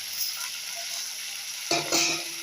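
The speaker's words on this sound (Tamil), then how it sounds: "நல்லா எண்ணெயிலே வதக்கணுங்க." Vegetables sauté in hot oil with chili powder, turmeric and salt in a pan, a close, steady crackling sizzle with scraping stir strokes near the end and no talk.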